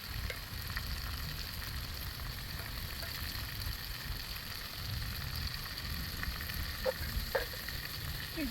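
Steak fries in a pan over an outdoor fire, a faint, steady sizzle and crackle that holds evenly throughout with a low background rumble and no speech.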